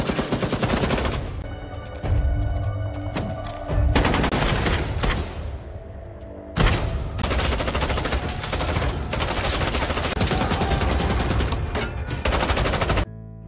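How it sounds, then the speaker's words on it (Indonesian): Heavy gunfire exchange during a drug-factory raid in an action film, with loud machine-gun bursts and shots crackling almost continuously, pausing briefly between volleys before resuming at full intensity. "Dalam penggerebekannya itu, baku tembak pun tak terhindarkan."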